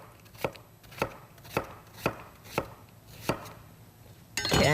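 A knife cuts food into thin slices on a board, six evenly spaced crisp chops in a steady rhythm, close and clear, followed by a brief louder rustle at the end.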